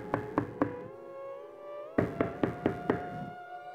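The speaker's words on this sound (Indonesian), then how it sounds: "Suara ketokan pintu itu membuyarkan lamunanku." Knocking on a door: a quick burst of three raps, a pause, then a second run of five sharper raps, fairly close and clear with no voices.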